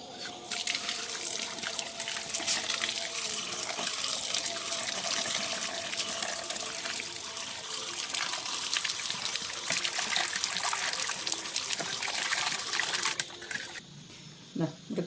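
Tap water runs steadily into a sink while fish heads are washed, a continuous splashing trickle that stops near the end, followed by a few faint handling sounds.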